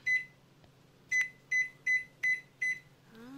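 Six sharp electronic beeps from a 1200-watt microwave, evenly spaced after a single opening beep, over a low steady hum, with a brief whirring sound at the end.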